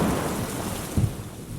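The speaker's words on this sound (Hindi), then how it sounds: "बिजली की आवाज़ से डर जाता है" A rumbling thunderclap rolls through steady heavy rain, with a low thud swelling briefly midway.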